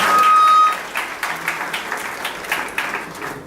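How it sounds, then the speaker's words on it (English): Audience applause at a pre-placement training workshop at NIT Silchar for two trainers, a moderate patter of clapping from a seated crowd following a brief opening tone. "Please give a round of applause to VC sir and Prakash sir."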